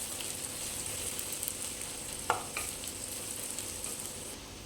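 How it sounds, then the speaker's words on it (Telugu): Chopped onion, one large onion cut small, frying in hot oil for Nellore-style fish curry, with a steady, close sizzle and a brief louder crackle partway through; no talking. "ఆనియన్ బాగా ఫ్రై చేసుకోవాలి."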